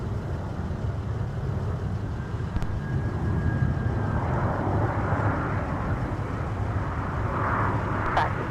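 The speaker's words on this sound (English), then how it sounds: "tail of a heavy Airbus on short final" A heavy Airbus airliner on short final into the airport makes a steady, moderately loud engine rumble that swells slightly toward the end, heard from outdoors at a distance.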